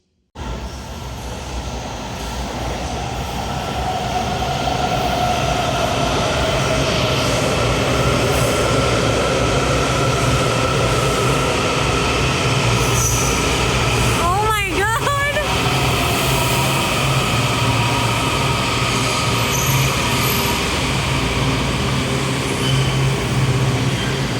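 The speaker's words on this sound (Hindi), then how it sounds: "ट्रेन आती है तो आपको दिखाते हैं" A train pulls into a station with a loud, sustained rumble of wheels and cars close by, squealing brakes rising briefly midway, and voices talking over the noise.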